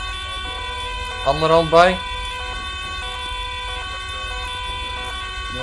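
Police sirens in a video game roleplay wail steadily in the background, with a rising and falling siren tone swelling briefly in the middle while someone speaks Dutch over it.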